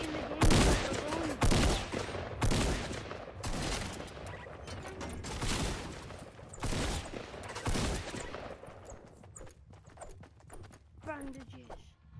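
Bursts of gunfire and sharp clattering in a Fortnite match, several loud cracks and rapid volleys in the first half fading into scattered softer clicks, with voices talking underneath.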